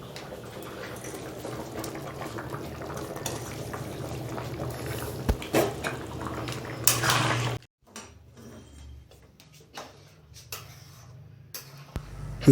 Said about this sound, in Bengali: ভেজে রাখা চিংড়ি মাছগুলো দেওয়ার পরে ভালো করে নেড়েচেড়ে মিশিয়ে নিতে হবে।